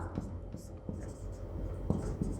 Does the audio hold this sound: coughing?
no